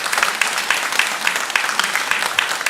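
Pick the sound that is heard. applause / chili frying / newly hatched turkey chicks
applause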